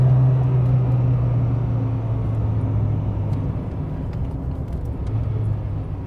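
Renault Clio, a Williams or 16V model, driving on the road, heard from inside as a steady engine rumble and road noise with a strong low hum throughout, no talking.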